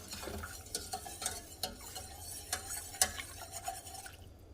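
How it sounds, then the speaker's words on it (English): A spoon stirs and scrapes through a thick King Ranch casserole sauce in a pot, giving repeated close scraping strokes over a soft simmering background. "Give that a mix. I'm going to bring it to a simmer and let it thicken a little."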